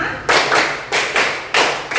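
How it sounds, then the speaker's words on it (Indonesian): Classroom of students clapping in unison in a rhythmic chant pattern, with three or four loud group claps in steady bursts, close and dry with no talking. "2 kali tepuk 5."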